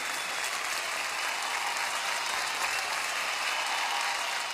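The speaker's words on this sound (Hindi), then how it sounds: "तो एक बार जोरदार तालियां।" Studio audience on a children's TV singing competition applauds, a steady even wash of clapping that fills the whole stretch at moderate level, with no talk over it.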